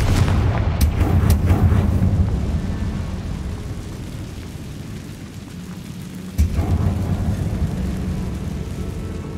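Confringo spell blasts in Hogwarts Legacy set off heavy explosive booms. A loud rumble rolls and slowly fades, then a second sharp blast strikes and its rumble carries on.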